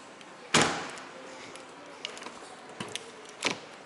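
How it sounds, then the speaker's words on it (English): A heavy car door on an Aston Martin DBX thuds shut once, loud and close, followed by a few softer interior clicks and taps in a quiet cabin. "It's manlier to slam the doors"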